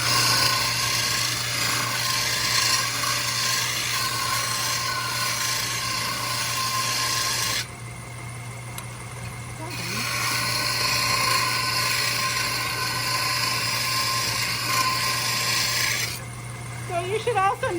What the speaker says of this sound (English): I'm trying to use the whole sandpaper, not working just in one direction or in one spot.